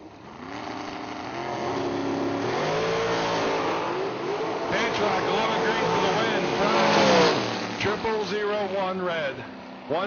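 A Class 1 transport dragster with a 454 engine racing down the drag strip, engine roaring and revving steadily for the whole stretch, with a track announcer talking over it.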